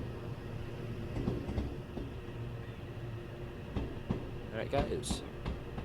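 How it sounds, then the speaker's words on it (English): Wheels of a Class 313 electric train in Train Sim World 4 clatter over rail joints on the East Coastway leaving Brighton, giving a steady clickety-clack of irregular thumps under a continuous rumble while someone talks over it. "Love the track joint sounds on this as well. Proper clickety clack out of Brighton."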